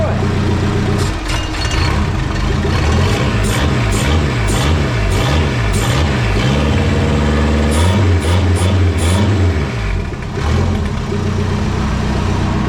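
A Renault 5 GT Turbo engine with a new EFI conversion idles and revs, its pitch rising and falling in repeated swells up close, with speech over it and a run of sharp ticks.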